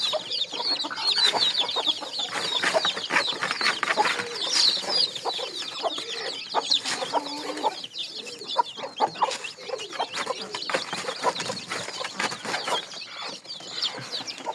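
Chickens in a village coop cluck steadily and close, with overlapping hen calls and chirps throughout and no human voice.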